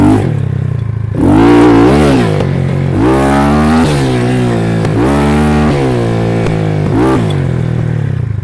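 A 250cc Minsk motorcycle that had been damaged in a fire climbs a hill. The engine is loud and close, with repeated rising and falling revs as the rider works the throttle, and there is a steady mechanical drone underneath.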